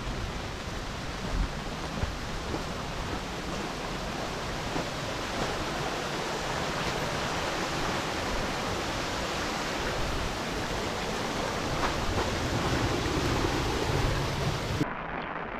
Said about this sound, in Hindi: बस एक और झरना है